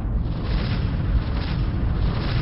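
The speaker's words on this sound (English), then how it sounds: "It's a huge explosion." A huge explosion as the Lucifer blows up in the Freespace Port space game, a loud, sustained, continuous rumbling roar with heavy low-end boom filling the whole stretch without a break.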